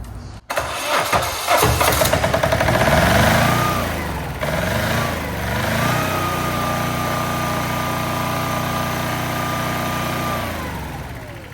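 An onboard diesel generator engine cranks, catches and settles into a steady high-revving run, loud and close, after a brief silence at the start.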